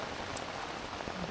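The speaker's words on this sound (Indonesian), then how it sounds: "Hujannya tiba-tiba lagi." Steady rain patters outside a tent at a campsite near Curug Cibulao waterfall, a continuous close hiss of drops with no talk.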